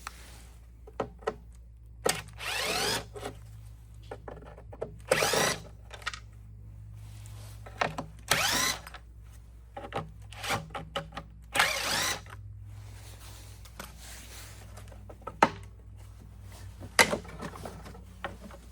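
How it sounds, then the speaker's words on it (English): Power driver backing out four T15 Torx screws on a Kohler engine of a Huskee riding mower, heard as several short whirring bursts separated by pauses and small clinks of parts being handled close by. "you have 1, 2, 3, 4 torque screws that are going to have to come out, and these are T15s"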